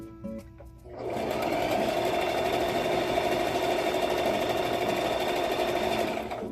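A small mechanical dial-operated sewing machine stitching quilt blocks, starting after a brief pause and then running in a steady, fast, whirring hum, close and loud, with no one speaking.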